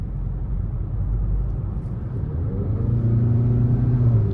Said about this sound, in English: There's that turbo putting in the work. And I love the sound from the blow-off valve.